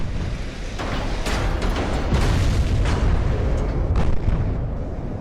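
A salvo of heavy battleship guns in Ultimate Admiral: Dreadnoughts, rolling booms overlapping into a sustained thunderous rumble with several sharper blasts standing out, loud and continuous throughout.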